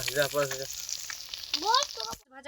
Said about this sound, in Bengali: হয়ে গেল সব মাছ ভেজে নিয়েছি